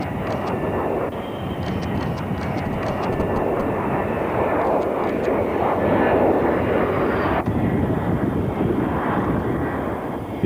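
B-2 stealth bomber landing at Edwards Air Force Base, a loud, steady broadband jet roar that swells mid-clip and holds close and continuous throughout, with no voices.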